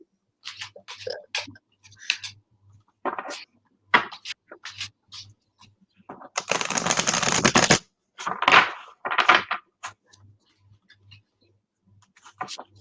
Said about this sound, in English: I love the way this deck shuffles too